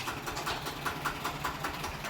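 A truck engine idles at a rice mill, a steady low rumble with a faint regular ticking pulse running through it, continuous and moderately close throughout.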